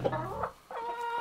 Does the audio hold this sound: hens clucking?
yes